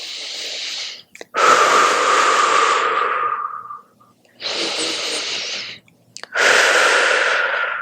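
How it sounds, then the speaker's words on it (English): Slow, deep breaths during a postnatal yoga session, close and clear. Three long breathing sounds, each a second or more, are separated by short pauses and small catches of breath, with no talking. "Take a few deep breaths here."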